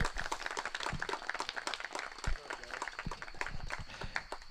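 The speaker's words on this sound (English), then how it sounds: "Give these officers one last round of applause" Applause for a group of officers at a closing show on stage, dense scattered clapping from an audience filling the room steadily, fairly loud and continuous without a pause.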